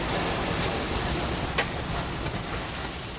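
Strong wind and breaking waves roar steadily around a cruising sailing yacht in the Mediterranean, a dense continuous rush with the wind buffeting the microphone close up and no voices.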